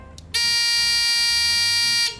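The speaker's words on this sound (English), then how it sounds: "When the level go down, the alarm sound like that." The leak alarm of an external water cooling system for a CNC spindle sounds as one loud, continuous harsh buzz lasting almost two seconds, starting abruptly after a brief click and cutting off cleanly.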